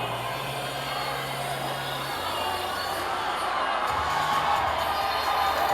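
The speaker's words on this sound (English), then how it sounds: "The crowd cheered on Emily Tanner." Steady crowd noise at a women's CrossFit-style regional fitness competition, a broad continuous roar of spectators cheering without clear breaks, with a low hum running underneath.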